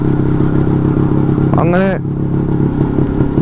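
A motorcycle rides through Bandipur forest on the way to Sultan Bathery, its engine a steady loud drone throughout while someone speaks briefly midway.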